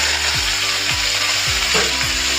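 Boiled khesari greens drop into a hot frying pan and sizzle steadily, with repeated stirring strokes scraping through the oil at an even rhythm, close and fairly loud, no voices.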